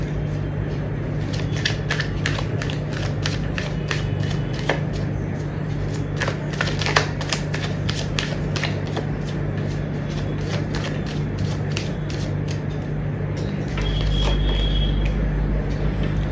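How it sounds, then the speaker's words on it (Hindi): Tarot cards are shuffled and drawn in a continuous run of papery flicks and riffles, fairly close, over a steady low electrical hum with a faint background tone. "मैं कार्ड्स निकाल लूँ फिर बताती हूँ।"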